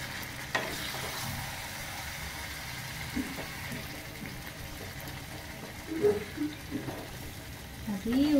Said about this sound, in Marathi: ह्या चमचा तुझ्या चमच्याने चालवायचं असं करून हलवून घे.